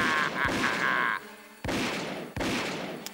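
Cartoon shootout gunfire with sharp shots cracking amid a sustained whistling tone, then two loud separate bangs after a brief gap, close and punchy.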